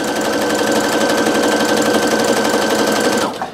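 A Brother SE625 sewing machine with a size 12 universal needle stitches through two layers of vinyl, a steady rapid mechanical whir with fast needle clatter, close and constant, winding down at the very end.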